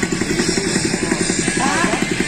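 A motorcycle engine runs steadily nearby, its rapid rhythmic chugging pulsing throughout without any voices.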